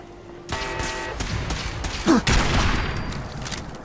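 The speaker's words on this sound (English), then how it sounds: "I hear a turret, but I don't see a turret" Automated turret gunfire in Fallout 4 with the Sim Settlements 2 mod: a burst of rapid shots starting after a quiet moment, with louder cracks near the middle and a trailing rumble, with no voices.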